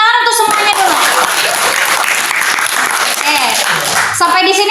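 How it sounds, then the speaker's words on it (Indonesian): A classroom of students claps loudly and steadily for several seconds at the end of a history lesson, with a teacher's voice heard briefly at the start and end. "Tepuk tangan untuk semuanya dulu."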